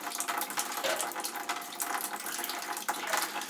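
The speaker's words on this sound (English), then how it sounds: "you want to sprinkle the water over the grain bed very gently" Water for all-grain brewing is poured through a colander and sprinkled gently over a bed of grain, giving a steady, close hiss of spraying and splashing water.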